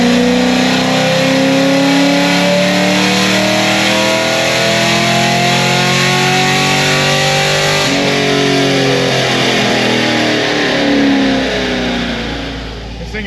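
A naturally aspirated LS7 V8 car revs hard on a dyno, a loud, sustained roar that climbs steadily in pitch, drops briefly, then climbs again before easing off at the end.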